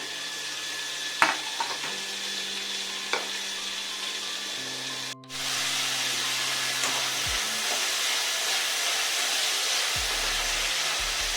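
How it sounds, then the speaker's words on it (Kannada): Onion and ginger-garlic paste fry in a tablespoon of oil for prawns chilli, making a steady hissing sizzle that jumps louder midway and holds, with a few faint clinks and taps. "ಅದು ಹಾಕ್ಬಿಟ್ಟು ಈರುಳ್ಳಿ ಮತ್ತು ಜಿಂಜರ್ ಗಾರ್ಲಿಕ್ ಪೇಸ್ಟ್ ಫ್ರೈ ಮಾಡ್ತಾಯಿದ್ದೀನಿ"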